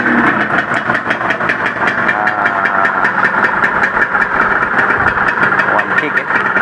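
An RXZ motorcycle engine idling steadily with a fast, even putter, loud and close, with a voice speaking over it.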